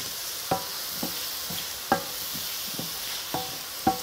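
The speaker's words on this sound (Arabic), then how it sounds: "ونقلب" A spoon scrapes and knocks in a pot of rice cooked with cumin and coriander, several distinct stirring strokes at an irregular pace over a faint steady sizzle, close and fairly quiet.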